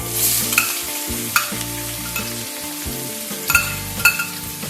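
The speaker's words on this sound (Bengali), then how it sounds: "পেঁয়াজকে লাইট ব্রাউন করে ভেজে নেব" Three medium onions, sliced, frying in oil toward light brown for a palak chicken, with stirring scrapes and occasional louder clinks over a soft sizzle, backed by steady music with no talk.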